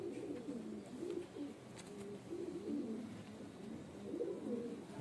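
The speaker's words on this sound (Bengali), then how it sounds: "নর পায়রা এটা।" A male pigeon coos repeatedly, soft low throaty rolling coos in a steady series, faint and close, with no talking.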